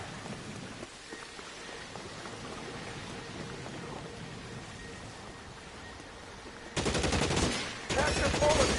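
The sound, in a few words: gunfire in the video game L.A. Noire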